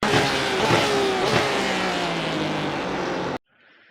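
A GT3 race car in the iRacing simulation at Daytona roars loudly as it brakes and downshifts, engine note dropping through blips before cutting off abruptly near the end.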